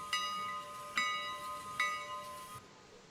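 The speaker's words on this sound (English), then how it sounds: "We got our bell." Locomotive bell in the railroad simulation game Railroader, clanging three times at an even, steady pace, each ring bright and metallic and decaying slowly before the sound cuts off.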